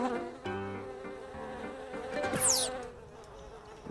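Flies buzz busily in a cartoon as they are swatted and caught, their whine close and bright over steady musical tones, with a sharp rising swoosh midway.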